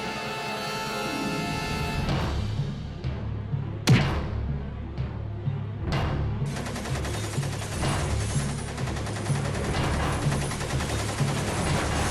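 Gunfire shattering glass at a hospital, heard as several sharp loud bangs and thuds over a dramatic music bed, followed by a dense continuous roar of noise.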